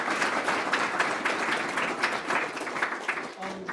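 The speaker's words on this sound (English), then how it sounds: "Let's give her a round of applause." A lecture-hall audience applauds a guest speaker at the end of a sport management class. Dense, continuous clapping fills the room and tapers slightly toward the end.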